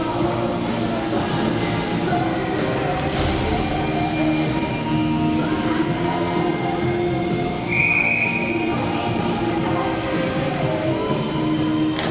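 Referee's whistle at a women's ice hockey game between Fjölnir and SR, one clear, fairly sustained blast rising above the constant arena crowd roar and commentary.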